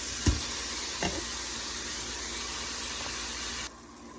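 Ground beef and onions fry in a pan as a steady close sizzle hiss, with a couple of brief knocks near the start, before it suddenly drops quieter at the end.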